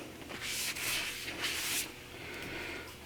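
A rag rubbing burned mystery wood on a spinning woodturning lathe, a close, continuous scratchy rub that swells in a few strokes and then eases, with no talk.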